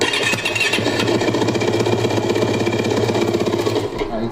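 A Yamaha YZ450F dirt bike engine runs steadily and loudly, with a dense, rapid mechanical chatter and little variation across the moment, close up.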